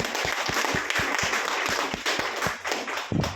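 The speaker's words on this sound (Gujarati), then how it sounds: "સૌ માટે એકવાર દિલથી તાળી મારો" Audience at a business presentation clapping in unison, a steady rhythmic beat of sharp claps about three per second over a faint bed of scattered hands.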